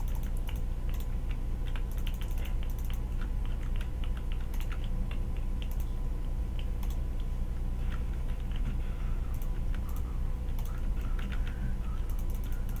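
Rapid, light clicking from a computer mouse and keyboard during Minecraft play, a steady scatter of small sharp ticks close to the microphone over a faint background hum.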